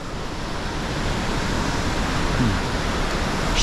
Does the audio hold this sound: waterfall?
yes